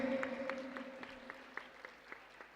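An audience at a Sahaja Yoga birthday puja for children claps in scattered, fairly faint applause under a sustained musical drone.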